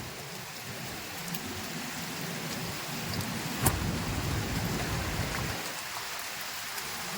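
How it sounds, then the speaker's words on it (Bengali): Heavy monsoon rain pours down in Mumbai as a loud, unbroken roar of drops on surfaces, with a sharp thump near the middle. "দেখো কত বৃষ্টি, পুরোটা ভিজে গেল।"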